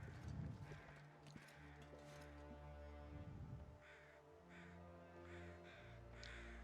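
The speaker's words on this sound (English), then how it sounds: "I'm hearing crows." Crows in the video game The Long Dark give several harsh caws, some close and loud, others thinner and farther off, spaced irregularly over a low steady wind-like drone.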